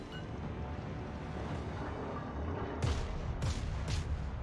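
Warship guns firing in World of Warships: several booming blasts land in quick succession near the end, over a continuous low rumble of sea and engine noise.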